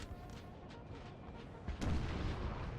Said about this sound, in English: Artillery going to do their best to harass the French as they're advancing.